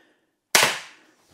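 An X-Bow FMA Supersonic Tactical crossbow fires once, giving a single sharp, loud snap of the string that rings briefly and fades out after a short silence, followed by a faint trailing knock.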